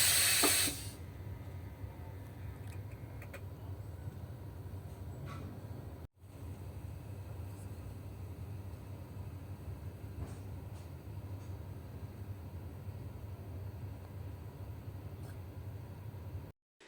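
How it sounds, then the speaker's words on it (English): A sleeper train between Sofia and Istanbul runs steadily after a border control stop, with a continuous low rumble and hiss of the carriage throughout, a brief sharper noise at the start and a short gap partway through. "Then the train continue after passing the border control."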